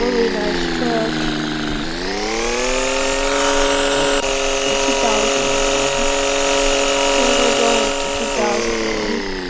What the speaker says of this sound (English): Got the 2001 Ram 2500 Cummins diesel.